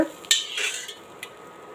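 Flour dough being dry-mixed with ghee and hot oil for traditional thattai snacks, heard as a few soft scraping and clinking strokes of a spoon against a bowl, close by with no talk.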